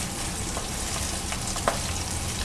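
Flour-coated pieces fry in hot oil, a dense, steady sizzle and crackle with a small pop near the end, close and continuous with no talking.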